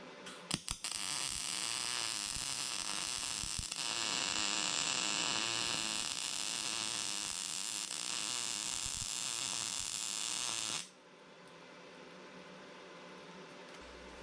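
PrimeWeld MIG 285 welder laying a bead, a steady crackling buzz for about ten seconds after a few stuttering starts, then stopping abruptly into a quiet background hum.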